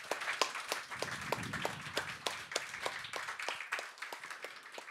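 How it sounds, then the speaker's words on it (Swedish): Scattered clapping from a small audience at a panel discussion, separate hand claps in an uneven rhythm, fairly faint, with a low murmur underneath and no voice on top. "Jag tycker att vi ger panelen en stor och varm applåd."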